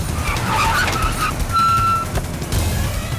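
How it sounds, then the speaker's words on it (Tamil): A vehicle pulls to a stop in a Tamil drama scene: a steady engine rumble runs throughout, with a clear electronic beep tone held briefly midway and a short squeal near the end. "ஏ வண்டி நிறுத்துறா"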